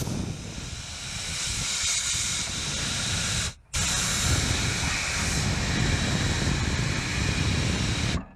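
Compressed air blasts steadily through a propane nozzle on a Blackstone griddle, a loud continuous hiss close by with one brief pause partway before resuming.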